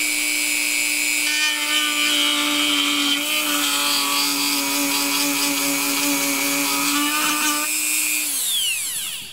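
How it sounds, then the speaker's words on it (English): Dremel rotary tool cutting through pipes while building a milk jug skull stand, a continuous loud high whine that holds steady for about eight seconds and then winds down. "we're gonna cut some of these pipes with this Dremel thing here"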